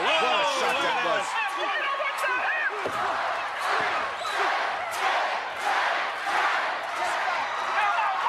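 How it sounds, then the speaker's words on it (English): A wrestling arena crowd at an Intercontinental Title match roars and cheers loudly with sharp shouts and rhythmic slams, while voices talk near the start. "Listen to the crowd. I love it."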